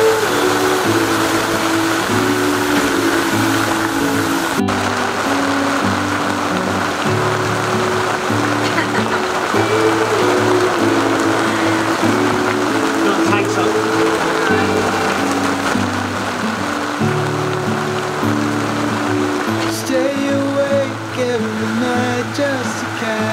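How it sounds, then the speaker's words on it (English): Heavy rain pours onto a sailing yacht during a storm in the Bahamas, a dense, unbroken hiss and patter lasting throughout with steady tonal sounds layered beneath. "I'm so sick of the rain."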